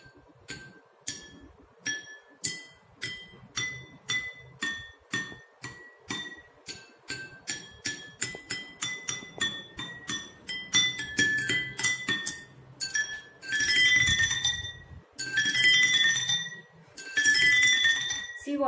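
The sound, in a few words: glass with water being struck, clinking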